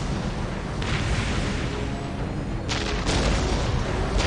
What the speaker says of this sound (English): We will silence that Ork artillery